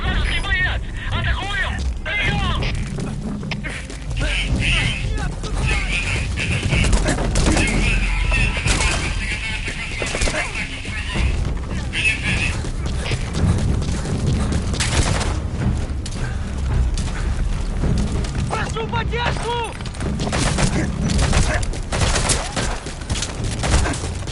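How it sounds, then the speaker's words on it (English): Loud, unsuppressed gunfire in Metal Gear Solid V: The Phantom Pain, with dense bursts of shots and booms continuing almost without pause, mixed with voices throughout. "Your suppressor's no longer effective. Bear in mind your weapon will be loud from now on."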